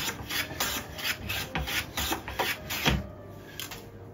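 Rhythmic rasping strokes across planed mahogany, steady back-and-forth scraping at close range, smoothing the surface of an antique secretary desk.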